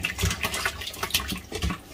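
Water poured over sardines in a bowl for washing, a steady splashing gush with uneven bursts, close and fairly loud, no voices.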